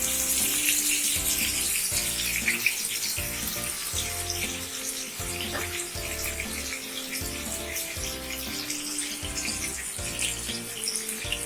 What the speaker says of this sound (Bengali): এবার আমরা ম্যারিনেট করে রাখা মাছগুলোকে একে একে এর মধ্যে তেলের মধ্যে দিচ্ছি, দিয়ে ভালো করে ভেজে নিচ্ছি।